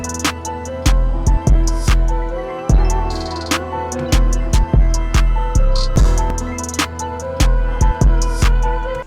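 A loud hip-hop beat made in FL Studio with punchy kick and snare hits in a steady rhythm under layered melodic synths and keys, no voices.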